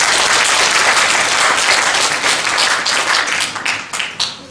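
Loud, dense applause from an audience in a lecture hall honoring Korean War veterans, a thick wash of many hands clapping that thins out and becomes more scattered near the end.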